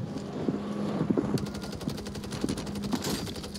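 Rapid bursts of SOA Subverter battle rifle fire in Warzone 3, sharp cracks repeating in short volleys over a steady background of game ambience, fairly close and loud.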